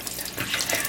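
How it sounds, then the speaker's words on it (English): Walnuts are washed in a bowl of water, with steady running and splashing water, close and continuous, with no talk. "We are going to wash these walnuts in a bowl."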